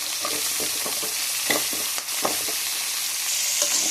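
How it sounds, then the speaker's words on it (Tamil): Crab fries in a pan with curry leaves, making a constant sizzle that is broken by the scrape and clatter of a spoon stirring at a moderate pace, heard up close with no talking. "இப்போ நான் நண்டு இதில் போட்டுட்டு இப்போ நம்ம வதக்கி விடலாம்."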